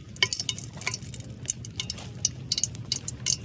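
Onion frying in hot oil at an outdoor picnic cookout in a Bhubaneswar forest, a soft, fairly quiet crackle and sizzle with irregular spitting pops and faint stirring.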